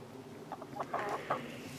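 Araucana Easter Egger hens clucking in a coop, several soft, irregular clucks and calls over a steady low background hum.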